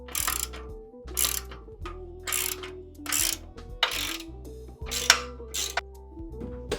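A ratchet fitted with a deep socket and extension turns bumper mounting bolts, giving bursts of quick clicking separated by brief pauses, close and fairly quiet.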